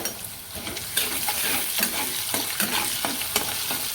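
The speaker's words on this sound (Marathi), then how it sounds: "हे पण मी गॅस बारीक करूनच भाजत आहे कांदा" Sliced onion with curry leaves and salt frying in two spoonfuls of hot oil over a low gas flame, giving a steady, close sizzle broken by repeated scraping stirs of a spoon in the pan.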